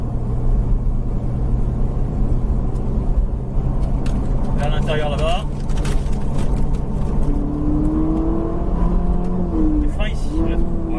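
A Ferrari driven through a corner on a racetrack holds a steady, fairly close engine drone at constant speed, with a man coaching in French over it throughout.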